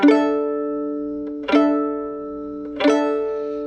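Three separate bowed chords on a violin, all strings sounding together in tune, each one ringing out with rich sustained harmonics before the next.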